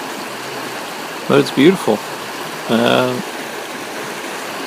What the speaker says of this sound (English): It's a channeled creek